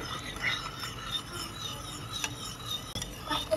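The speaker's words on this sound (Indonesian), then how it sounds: "Diaduk-aduk seperti ini supaya larut terlebih dahulu." A spoon stirs gelatin powder into about 100 ml of water, giving a soft continuous scraping and rubbing against the container, close up and fairly quiet with no talking.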